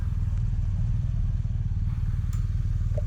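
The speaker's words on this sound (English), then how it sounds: "I'm on the Vulcan S. Mike is on the BMW R1250GS." A 2023 Kawasaki Vulcan S and a BMW R1250GS ride through a low-speed cone-weave lesson, a steady, close engine drone with a few faint clicks and knocks on top.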